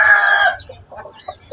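A young Aseel rooster gives a short, loud crow near at hand that breaks off after half a second, followed by a few soft clucks and faint scuffling.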